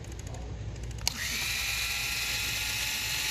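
A small power tool or driver with a 2mm bit whirs up to a steady high-pitched buzz as it removes the steering servo from an Arrma RC truck. The tool noise is close and continuous after a brief click.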